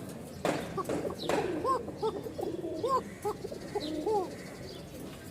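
A Bashiraj pigeon cock coos close by in a series of soft, rolling calls repeated every second or so, with a couple of rustling flaps early and faint room noise underneath.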